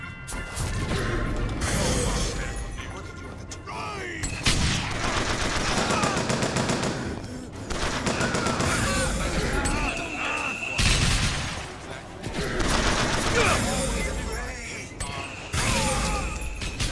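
Weapon fire in BioShock Infinite: Burial at Sea, from a gun holding only four shots, comes as loud repeated bursts of shots and crashes over busy game noise and music, with short quieter gaps between volleys.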